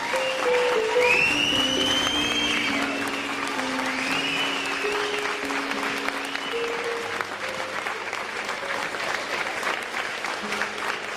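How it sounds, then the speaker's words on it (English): Wedding guests applaud Anthony in a steady, sustained round of clapping that fills the room, with cheers and high whistles rising over it and a sustained musical tone running underneath. "Let's give Anthony a nice round of applause."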